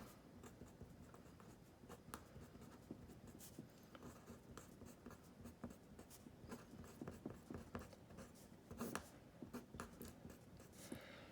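Pencil scratching across paper while factoring a numerator in a calculus lesson, steady close scribbling strokes with small taps, continuous and fairly quiet with no talk.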